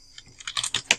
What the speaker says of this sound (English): I type in PD mode.